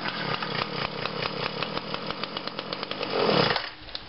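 A Weed Eater GTI 19 string trimmer's small two-stroke engine on full choke fires and runs in a loud, close, rapid buzzing burst, revving briefly before cutting off.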